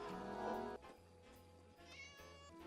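A cartoon cat lets out a drawn-out, tonal meow, followed by further shorter mewing calls over a quiet music bed.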